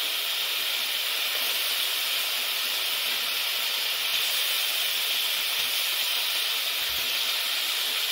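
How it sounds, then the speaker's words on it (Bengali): Fried potatoes hit a hot mustard spice paste in a pan for a Bengali katla fish curry, raising a loud, steady, close sizzle that holds evenly throughout, with no voices. "এবার আমি ভেজে রাখা আলুগুলোকে মশলাতে দিয়ে দেব।"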